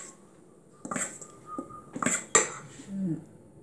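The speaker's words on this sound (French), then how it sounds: "je mélange mes 2 préparations comme ceci" Two birthday cake preparations are mixed in a bowl, with a few clinks and scrapes of a utensil against the bowl in short irregular bursts, close and fairly quiet.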